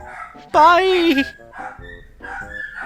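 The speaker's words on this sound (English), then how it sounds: "the dog's going nuts!" An agitated dog lets out a loud, close, drawn-out yelping bark with a whining pitch fall, followed by quieter whimpering sounds, while a person talks before and after.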